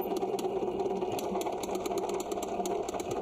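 A mini lathe with a CNC upgrade takes a threading finishing pass at 19 thou. It gives a steady, continuous mechanical whir with a fine rhythmic ticking, close and moderately loud, and no one speaks over it.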